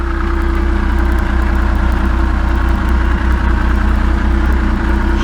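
A 1994 Yamaha Vmax 600 snowmobile idles just after its first start out of summer storage, a loud, close, steady two-stroke engine putter with an even pulsing rhythm and no voices.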